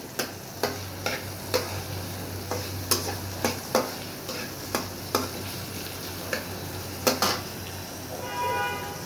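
Noodles frying in a pan, a constant low sizzle punctuated by regular sharp taps of a utensil against the pan, near and fairly steady.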